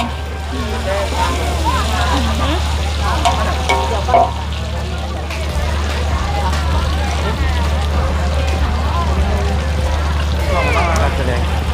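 Steady loud sizzling of tofu frying in hot oil in a large wok, continuous throughout with a low hum beneath and lively chatter over it.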